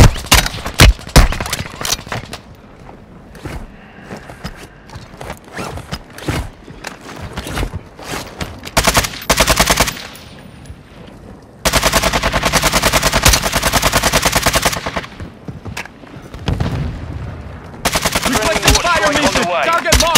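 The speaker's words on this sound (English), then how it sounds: "Taking fire over here." Dense gunfire from the Call of Duty: Modern Warfare II battle royale rattles nearly throughout, with sustained automatic bursts and scattered single shots at close range, loud and continuous with little pause.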